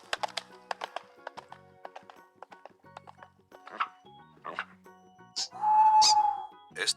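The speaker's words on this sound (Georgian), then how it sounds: "ცხენი თავს არ ზოგავდა და მოქროდა გაყინულ გზაზე" A horse gallops along a frozen road on a winter evening, its hooves striking in quick, irregular clatters, then a louder sustained burst near the end.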